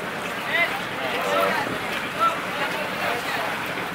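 Wind and water wash around a boat moving on open water during island hopping at Coron Island, a steady rushing noise with faint voices and gusts now and then.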